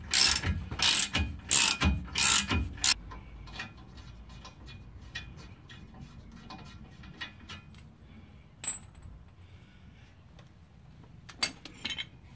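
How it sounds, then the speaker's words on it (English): A ratchet backs out the bolt on a Chevrolet Silverado torsion key, with a few loud bursts of rapid clicking at the start, then quieter scattered clicks and small metallic ticks. "we're going to unload this, the pressure off of this key by backing out this bolt here"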